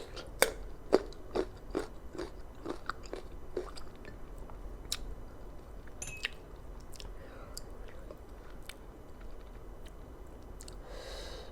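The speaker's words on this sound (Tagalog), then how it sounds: "Lalo na yung mango, super crunchy." Sharp, crunchy bites into sour green mango, served with papaya spicy sauce and bagoong, followed by steady close chewing. Loud crisp snaps come in a rapid series early on, then softer wet mastication continues at close range with no talking.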